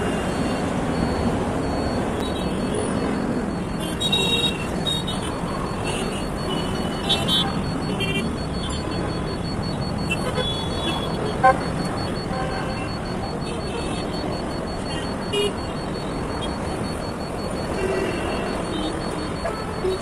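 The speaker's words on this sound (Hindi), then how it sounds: "अभी मैं मॉर्निंग टाइम में यहाँ पे ड्यूटी जा रहा हूँ, ट्रैफिक तो है यहाँ पे" Morning road traffic with car and truck horns and engine rumble, heard while riding an Activa scooter; steady dense noise with scattered toots and beeps, someone talking over it.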